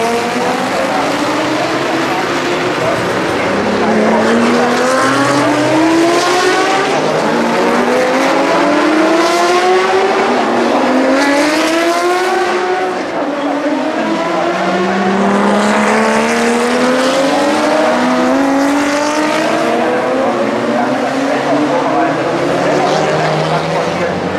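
Several race cars, including a blue BMW E30 and a mid-1970s Porsche 911, roar past one after another at the Norisring classic races, engines rising and falling in pitch as they accelerate and pass, with a voice talking over the noise.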